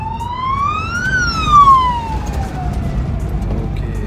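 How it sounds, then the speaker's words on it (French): An emergency siren wails with a rising then falling tone, loud and nearby, over traffic rumble. "Ah non, c'est l'ambulance."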